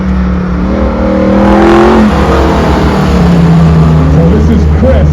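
A muscle car, a Cuda, is driven hard on a run at a Phoenix muscle car shootout, its engine loud and close, the pitch climbing and falling with each rev and gear change.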